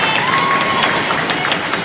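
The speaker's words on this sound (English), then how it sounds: "It's a big cheering section here for New Canaan." Crowd noise in a gym at a high school girls' varsity volleyball match between Darien and New Canaan, a large home cheering section roaring steadily and close, with a broad continuous wash of cheers and shouts over the full stretch.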